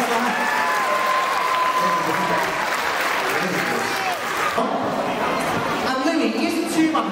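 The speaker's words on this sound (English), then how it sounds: "Big round of applause." Sustained clapping from a large audience at a sea lion show, continuous and fairly loud, with voices and chatter audible underneath.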